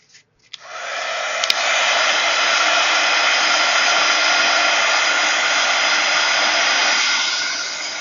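A hair dryer blows steadily on a paper card panel for a craft card, starting with a click and running loud and continuous close by for several seconds before easing slightly at the end.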